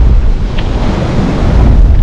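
Sea waves rolling onto a beach in strong wind on a warm January day, a loud, continuous roar of surf heavily buffeted by wind rumbling across the microphone, with no break and no voices.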